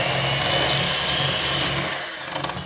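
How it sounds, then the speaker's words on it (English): Electric hand mixer creaming sugar for a pineapple upside-down cake batter, a loud, steady motor whir with a gritty beating texture, heard close and alone before trailing off slightly. "we will cream these together with a hand mixer"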